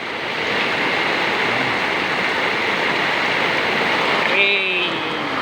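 Floodwater rushing during Typhoon Kristine, a steady broadband roar like a fast stream running close by throughout, with a brief tonal whistle or voice near the end.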